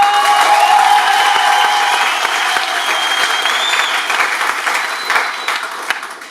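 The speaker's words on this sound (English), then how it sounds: "clap your hands, all you people!" A worship-night congregation claps hands together, a dense, steady wash of applause from a large crowd, loud and continuous, slowly easing off near the close.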